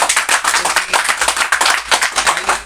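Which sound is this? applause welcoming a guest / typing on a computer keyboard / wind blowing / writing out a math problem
applause welcoming a guest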